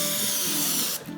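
Canola blend cooking spray hisses out of an aerosol can into a loaf pan, a loud, steady close-up spray lasting about a second before cutting off.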